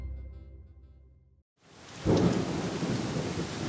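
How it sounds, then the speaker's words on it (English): Steady rain pours down, then a deep rumble of thunder rolls in and lingers beneath the downpour, with no voices. "There's a storm and some very strong winds outside."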